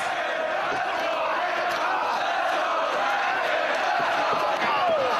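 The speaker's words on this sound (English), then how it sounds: "This crowd getting behind both of their athletes as Kenta starts to unleash the kicks." A professional wrestling crowd at a Ring of Honor match cheers loudly and continuously, a dense roar of many voices with chants and shouts rising through it.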